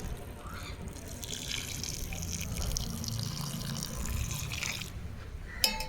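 Liquid organic fertilizer is poured around the base of a rose plant, giving a steady, moderately quiet splashing trickle that runs without a break and ends in a brief sharp clink.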